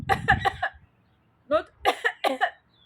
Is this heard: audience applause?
no